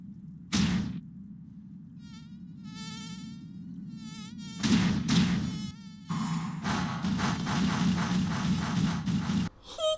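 A mosquito whines in the One Punch Man anime, its high buzzing drone swelling and fading in bursts, broken by sharp slapping thumps.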